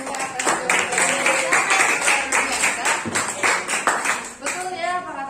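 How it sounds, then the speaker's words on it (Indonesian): Classroom students clapping for themselves during a lesson on entrepreneurship, a lively burst of many hands with a teacher's voice speaking over the clapping and a few children's voices mixed in. "tepuk tangan dong untuk kalian"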